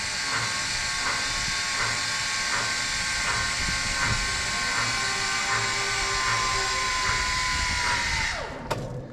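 Electric winch on a homebuilt DIY dump bed hauls the tarp back in with a steady motor whine and a faint regular clicking, running continuously at close range before cutting off abruptly near the end.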